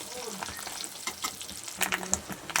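Fish roe and snake gourd frying in oil in a pan, a steady close crackling sizzle with scattered louder pops and stirring scrapes near the end.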